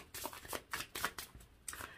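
Tarot cards are shuffled in quick, papery bursts that come in uneven riffles close to the mic, with no voices.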